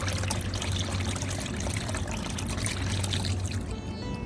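Homemade fish liquid fertilizer, with fish oil in it, is poured out in a continuous, close, gushing stream that splashes loudly and then tails off.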